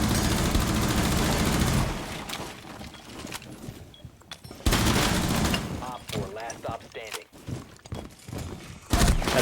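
Bursts of rapid gunfire from a Rainbow Six match, sharp volleys and single shots loud and close, with pauses between flurries and someone talking over parts of it.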